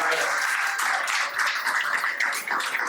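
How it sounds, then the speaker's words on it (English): An audience breaks into steady applause for Dr. Benny Wright, dense clapping filling a room at an even level throughout, with a few voices mixed in. "How about a round of applause for"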